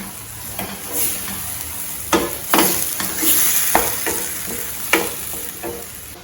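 Mushroom gravy masala sizzles steadily in a frying pan while a spoon scrapes and stirs it in repeated strokes, the clatter sharp and close over a constant hiss of frying.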